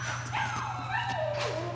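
A puppy whimpers and yips in a run of high, wavering cries close by, over a steady low hum.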